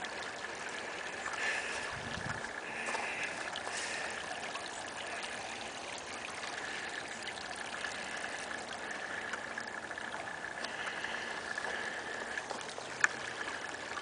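Gentle, continuous trickle of flowing water, soft and steady, with a faint distant rumble and no talking.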